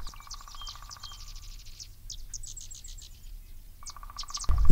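Several birds sing and chirp in repeated high bursts against a soft outdoor hiss in woodland at Sax-Zim Bog, with a sudden low thump at the very end.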